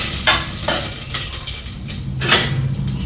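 Whole spices, bay leaf, cinnamon, cloves and fennel, sizzling in a pan for tomato bath, with a soft frying hiss and a few clinks of a spoon against the pan, close and moderately loud, with no voices.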